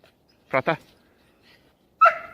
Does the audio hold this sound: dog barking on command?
yes